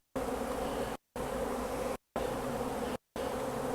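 Honey bees buzz around an open feeder outdoors, a dense steady hum that comes in three long stretches broken by brief gaps, close and even, with no voices.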